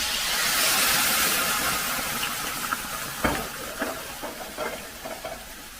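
Vermouth reducing in a hot pan, a bright, even sizzle that is strongest at the start and eases off, with a few soft clinks and stirring taps toward the end.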